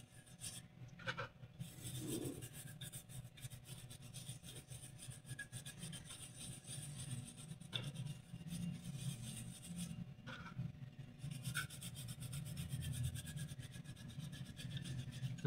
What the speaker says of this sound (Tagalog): kuskusin nyo po para may malinis po siya, kasama po yung medallion